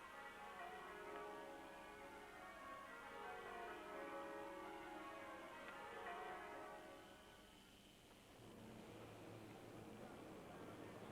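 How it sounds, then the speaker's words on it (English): Church bells of St Philip's and Christchurch St Lawrence in Sydney peal in a dense, overlapping ring that fills the air, then fade out around the eighth second, leaving a low background hum. "the celebratory sound of the pealing of bells"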